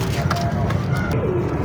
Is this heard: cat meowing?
no